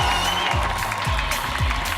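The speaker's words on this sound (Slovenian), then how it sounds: "Dajmo jim en aplavz." Applause from a studio audience on a Slovenian TV quiz show sounds as dense, steady clapping filling the whole room, loud and continuous throughout.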